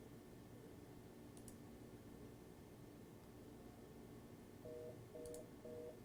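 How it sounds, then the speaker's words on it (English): After a quiet stretch of line hiss, a fast busy tone follows a call dialed over a SIP trunk: three short, evenly spaced beeps near the end, faint and alone. "but I got a fast busy"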